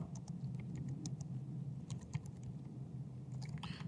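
Soft, quick keystrokes tap on a computer keyboard as code is typed, faint and irregular over a steady low hum.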